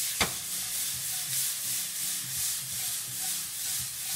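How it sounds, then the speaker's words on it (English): Onions, tomatoes, garlic and ají amarillo chili sautéing in a pan, a steady close sizzle with gentle rhythmic scraping from stirring and a brief click near the start. "So we're going to make like it saute a little bit."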